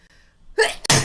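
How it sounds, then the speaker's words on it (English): A single sharp sneeze from a person, a brief inhaled build-up and then an abrupt loud burst, close to the microphone and alone. "Trying not to sneeze."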